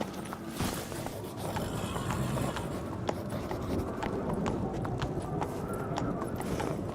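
Hooves clip-clop steadily from a horse in The Witcher 3, with an occasional whinny over a dense, constant game soundscape of ambient noise.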